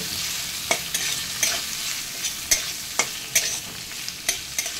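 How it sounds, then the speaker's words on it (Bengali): Chopped onions frying in a pan for a bitter gourd and poppy seed dish, with a soft steady sizzle and a spatula scraping the pan at regular intervals, loud and close. "পেঁয়াজগুলো দিয়ে এবার হালকা একটু নাড়াচাড়া করে নেব।"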